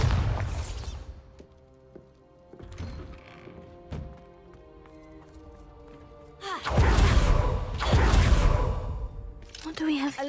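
A Bombarda blasting spell goes off in Hogwarts Legacy: a loud boom with a rushing burst midway, following quieter game effects and a brief spoken spell word.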